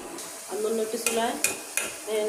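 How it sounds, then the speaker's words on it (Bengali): Onion, garlic and chili frying in oil on a stove for a dal tempering (bagar), a steady sizzle with a few sharp stirring scrapes against the pan, heard close up with no talk. "পেঁয়াজ রসুন এবং মরিচ দিয়ে ফোড়নে দিয়েছি। আমার পেঁয়াজ রসুনটা প্রায় ভাজি করা হয়ে গেছে।"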